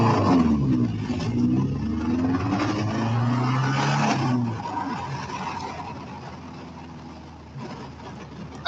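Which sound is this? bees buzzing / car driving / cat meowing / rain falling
car driving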